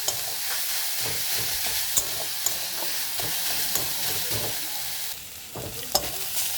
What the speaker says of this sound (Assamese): আৰু মই নাৰিকলখিনি গুড়ৰ সৈতে 1 পৰা 2 মিনিট টাইম ভাজি ল'ম।